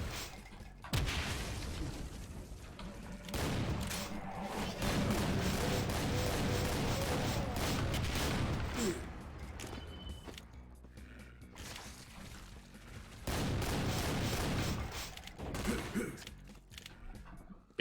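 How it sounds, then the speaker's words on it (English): A triple-barrel super shotgun blasts repeatedly in Doom, loud gunfire bursts mixed with game explosions and music in dense stretches, with a quieter gap between volleys. "it's a triple-barrel super shotgun"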